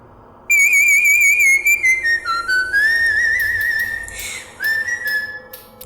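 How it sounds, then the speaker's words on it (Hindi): A cheerful whistled tune from a night whistler, loud and close, with a sustained melodic line that glides and steps between notes and pauses briefly between phrases, clear and alone. "उस सीटी वाले की हर रात एक सी धुन होती है और वो बड़ी ही खुशनुमा होती है।"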